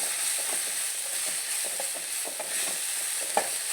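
Tomatoes fry in a pan for a brinjal curry, giving a constant sizzle while a spoon stirs and scrapes in repeated soft strokes, with one sharper clink near the end.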